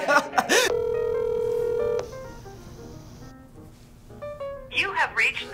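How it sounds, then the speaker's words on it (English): A phone call being placed, with a short sequence of dialing tones and then a steady electronic tone, and voices briefly at the start and end. "Okay, I'm going to call my mom first. See if she picks up."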